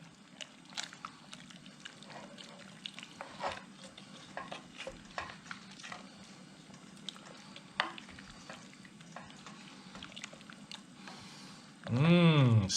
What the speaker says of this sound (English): and a little bit more black pepper, not too much. Get everything nice and stirred in.